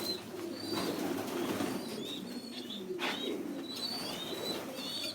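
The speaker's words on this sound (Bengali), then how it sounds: "আপনার ফ্লাইং জোরে কিছু কবুতর আছে" Pigeons at a pigeon farm coo in low repeated murmurs, with occasional wing flaps and faint chirps, close and continuous, with no talk.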